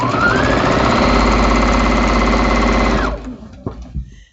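A sewing machine runs fast and steadily for about three seconds while stitching quilt squares made from charm squares, then stops, leaving a few soft clicks and handling sounds.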